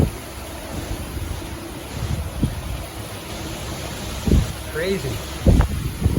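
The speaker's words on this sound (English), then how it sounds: "That's some serious wind starting to pick up." Strong wind from Tropical Storm Isaias buffets the New Jersey/New York area in a continuous rushing roar that swells in gusts, while a voice speaks briefly near the end.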